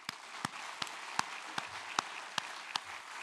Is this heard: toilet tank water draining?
no